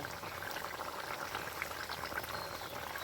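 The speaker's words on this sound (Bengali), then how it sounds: "এই যে মাছ ভেজার তেলটা এখন দিয়ে দেব" Oil left from frying fish is poured into a simmering curry of bata fish with kul, a steady bubbling and liquid burble, close and moderately loud, continuous with no pause.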